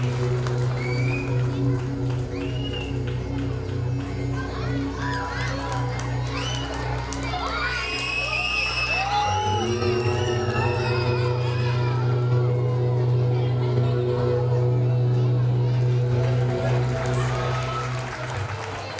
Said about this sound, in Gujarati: તાળીઓનો અવાજ વધુ આવવો જોઈએ